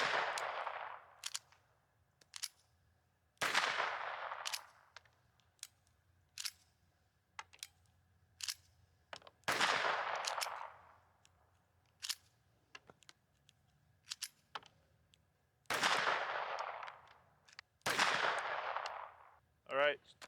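Ruger LCP II .22 pistol firing Winchester Wildcat rounds, six sharp close shots spaced unevenly over twenty seconds with small clicks and handling noises between them.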